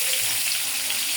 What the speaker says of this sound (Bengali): এবার আমার বেগুনগুলো এক পাশ হয়ে গেছে, উল্টাই দিব।